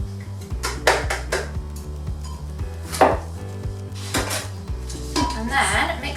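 Oreo cookie crumbs stirred into buttercream in a bowl, with repeated clinking and knocking of a utensil against the bowl in an irregular rhythm, close and clear.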